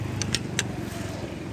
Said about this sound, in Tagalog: there's a lot of car, guys